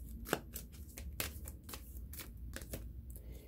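Quiet shuffling and flicking of a deck of song cards as one card is drawn, with light papery rustles and small taps close by, no talking.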